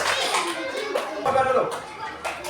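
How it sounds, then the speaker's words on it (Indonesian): Classroom applause for a student group, a dense patter of clapping hands mixed with children's chatter and a teacher's voice, steady and fairly close for a couple of seconds. "Tepuk tangan buat kelompok 3"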